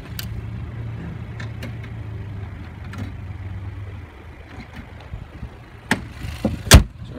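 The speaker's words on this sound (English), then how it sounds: "I'm gonna close this hood real quick." Hood of a new Chevrolet Malibu is shut with a single sharp thump near the end, after a few seconds of low idling engine hum and small handling noises nearby.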